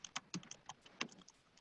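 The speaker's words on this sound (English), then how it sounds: "let me finish typing my email there" Someone types an email on a computer keyboard in a quick, irregular run of light clicks and taps, close and quiet.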